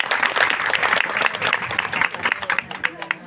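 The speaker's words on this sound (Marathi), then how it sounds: "टाळ्या वाजा." Applause from the audience at a women's bhajan group gathering in Bhadgaon, steady dense clapping for about three seconds, fairly close, with some voices mixed in.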